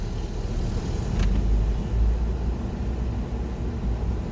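A vehicle drives across an outdoor airsoft and paintball field, its low engine rumble steady and close throughout, swelling slightly as it rolls along, with no voices.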